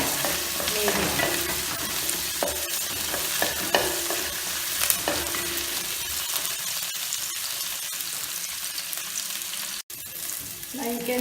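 Onion, ginger and garlic sautéing in a pan as the base of a coconut fish curry, a dense close sizzle with occasional stirring scrapes and light clinks, no voices.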